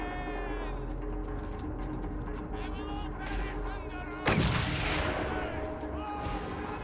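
A single sharp sniper gunshot cracks out in the Mad Max video game, a loud burst rising over steady in-game engine rumble and ambient noise.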